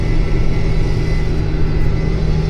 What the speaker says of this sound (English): So I have it full throttle, and we're running at 1560 to 80 RPMs